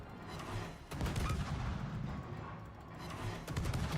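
Battleship Vermont firing its main guns in World of Warships, heavy booming salvos with rumbling tails, a few blasts spaced across a few seconds under constant battle noise.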